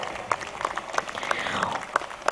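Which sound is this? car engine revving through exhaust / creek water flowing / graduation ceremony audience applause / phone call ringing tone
graduation ceremony audience applause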